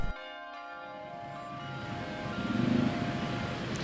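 Sustained ringing of church bells at Malate Church in Manila during a procession, long tones layered over one another with a steady hum and some wind noise, no talking.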